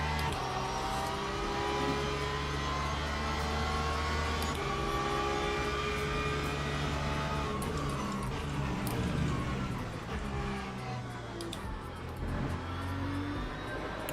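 Race car engines roar continuously in the video game Le Mans Ultimate, a dense, loud drone of several cars with shifting revs that swell and fade over about fourteen seconds.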